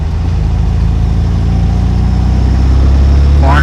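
A Volkswagen engine fitted with a single Weber IDF carburetor runs steadily while the car is driven, not yet warmed up, giving a continuous low engine drone throughout, loud and close, with no voices.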